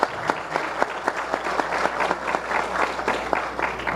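Audience at an agricultural forum during the Expointer 2018 expo applauds steadily, a dense, sustained patter of many hands clapping at close range with no voices over it.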